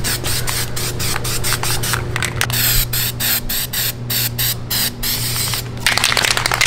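Primer is sprayed onto the side of a steel subframe plate on an E36 chassis, in close, loud hissing bursts with quick rhythmic breaks between them.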